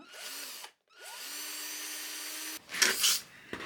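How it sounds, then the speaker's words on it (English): Power drill boring into a papier-mache rhino mask, its whine spinning up in short bursts and then holding a steady pitch, followed by scraping and rustling handling noises near the end. "And I'm going to use this drill."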